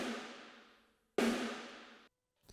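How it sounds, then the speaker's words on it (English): Two ringing snare drum hits recorded as a room sample, each a loud crack with a long roomy decay, spaced about a second apart, followed by a quieter short hit at the end. No talking. "a snare sample, which is just a room sample"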